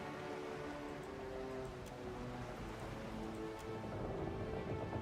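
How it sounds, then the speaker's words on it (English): A storm with steady rain pours over a pitching ship in the video game Pillars of Eternity, a constant dense hiss with faint crackles, moderately quiet and unbroken, with no voices. "The storm rages on, showing no sign of subsiding."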